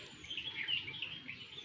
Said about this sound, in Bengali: শুনতেই পাচ্ছেন পাখিদের ডাক।